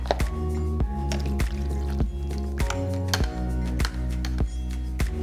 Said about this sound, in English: The quail eggs, I'm just gonna drain it.